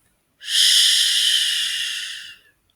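A voice imitates wind rustling through leaves with one long, breathy hiss lasting about two seconds, close and clear, then silence.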